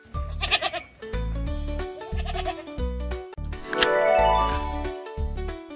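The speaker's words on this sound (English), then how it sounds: "G is for g, goat." A goat bleats repeatedly and loudly over steady tonal music with jingling tinkles, with no talking.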